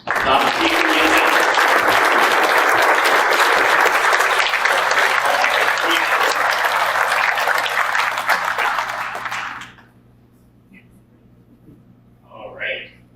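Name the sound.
crowd applause at hypnosis show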